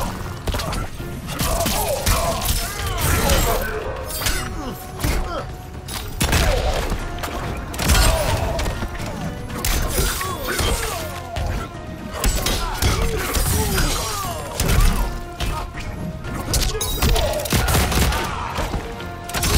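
Mortal Kombat 11 fight round with a rapid barrage of punches, smashes, thuds and impact bursts, loud and dense throughout with constant hits and crashes layered over game effects.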